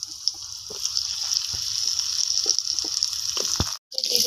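Potatoes dropped into hot oil with black cumin seeds, a steady bright sizzle running throughout with scattered pops and light clatter, close and alone.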